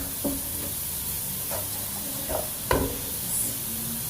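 Salt and turmeric are stirred into golden fried onions in a pan, giving a soft steady sizzle broken by several brief scraping stirs of a spoon, close and fairly quiet with no talking.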